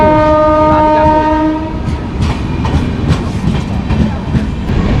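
The Radhikapur–Kolkata Express 13146, departing Raiganj station, sounds a loud, sustained multi-tone horn up close, then the horn fades into steady clickety-clack wheel rumble and rattling from inside the moving coach.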